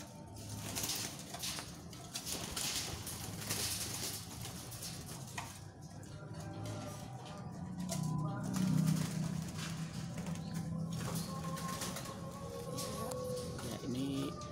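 Spotted dove cooing in soft repeated phrases, faint and somewhat distant, beneath someone talking steadily.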